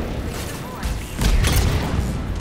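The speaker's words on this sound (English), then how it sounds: "Grenade." In Mass Effect 3, a grenade goes off with a deep, close boom about halfway through, preceded by lighter impacts and followed by a lingering rumble.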